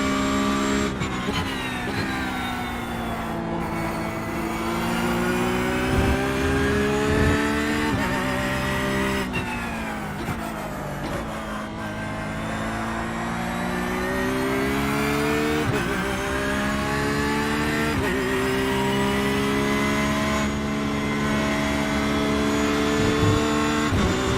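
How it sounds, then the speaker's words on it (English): Mercedes race car engine in a racing video game, loud and close, rising and falling through repeated revs and gear shifts for the whole stretch, with occasional tire squeal. "Man, I love the sound of that Mercedes."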